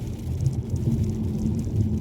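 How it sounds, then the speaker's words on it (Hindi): Heavy rain pours down during a road trip by car between Samara and Penza in Russia, a dense steady roar with a deep rumbling undertone and no voices. "अब बारिश बहुत तेज़ शुरू हो गई है"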